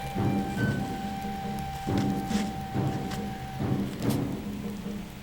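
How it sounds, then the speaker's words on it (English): Steady rain patters on surfaces and wet wood outdoors, a dense hiss with occasional louder drops and faint distant rumbles, no voices. "And you know what? It's even raining out."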